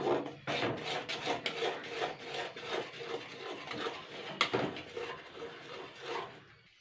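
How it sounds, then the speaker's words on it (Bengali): Rice flour being worked into boiled jaggery until it forms a stiff dough, producing rhythmic rasping scrapes and rubs of a spoon against the pan, close and fairly quiet, with no voice. "এইভাবে আমি নাড়াচাড়া করতে করতে একটা শক্ত ডো মতন করে নেব।"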